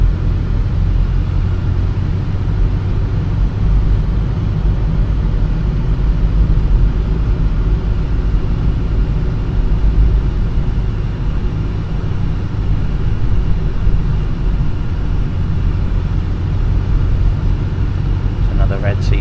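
Volvo C30 diesel engine droning steadily from inside the cabin while driving, a continuous loud low rumble with road noise throughout.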